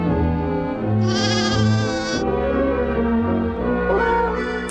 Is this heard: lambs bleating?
yes